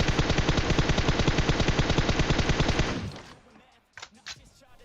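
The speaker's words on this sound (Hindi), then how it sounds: "अब वो बंदा जून के बाहर पड़ा है, लेकिन गोली चलाना रोकता नहीं।" Rapid automatic gunfire from PUBG rattles in a fast, even burst for about three seconds, loud and close, then cuts off into quiet with a couple of sharp clicks afterward.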